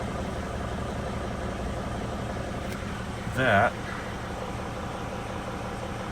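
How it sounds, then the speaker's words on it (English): A running engine idles steadily beneath the whole stretch, a low continuous rumble, with a brief spoken word cutting in near the middle. "now with the engine running"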